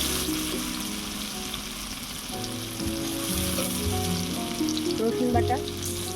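Chopped onions sizzle in hot mustard oil with kalonji, cumin and green chilies in the pan, a steady frying hiss with occasional stirring scrapes, close and continuous.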